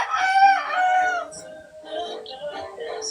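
A rooster crows loudly nearby, followed by the clucking of chickens over a few seconds.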